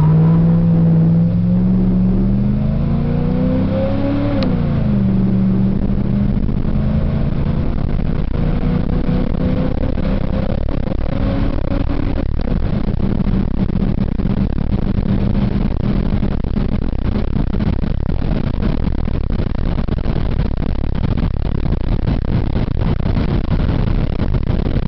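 A Ford F-350 truck with a 460 engine accelerates hard from a standstill toward 60 mph, engine note rising through gear changes into a loud, sustained roar with heavy rumble, recorded close up from inside or near the vehicle.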